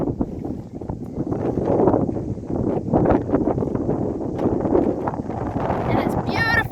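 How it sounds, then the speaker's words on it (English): Strong wind buffets the microphone on the Kaikoura coastline, a rough, gusting rumble that rises and falls throughout while a person speaks over it. "It's very windy."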